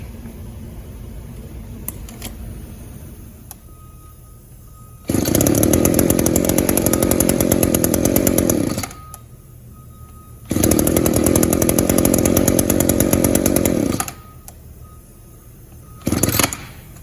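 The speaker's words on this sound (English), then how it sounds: "we got the SRM 280 going one more time" An Echo SRM 280 string trimmer runs on a freshly installed short block: its small two-stroke engine idles with a buzzing rattle, then revs hard twice for a few seconds each time, then gives one brief blip at the end, close and loud.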